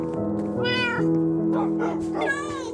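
A pet cat in the Minecraft video game meows repeatedly, with several close, clear in-game mews in a row.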